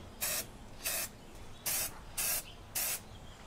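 Five short, loud bursts of spray paint hiss out in an even rhythm while a Hummer H3 bumper is painted, each lasting about a quarter second with quiet gaps between.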